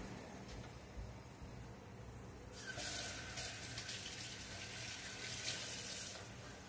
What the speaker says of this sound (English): Give me a minute and I'll wash my hands.